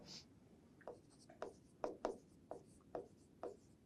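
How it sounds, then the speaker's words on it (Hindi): Chalk or marker writing on a classroom board, a series of short rhythmic scratching strokes about every half second, fairly quiet and close, with no talk. "मैं ये आप लोगों के लिए लिख देता हूं।"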